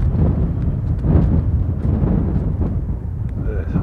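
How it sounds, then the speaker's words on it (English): Strong gusting wind buffets the microphone on a coastal path from Maldon to Tollesbury Wick in England, a loud, steady low rumble with surges throughout and no clear speech. "quite windy"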